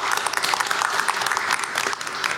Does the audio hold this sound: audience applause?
yes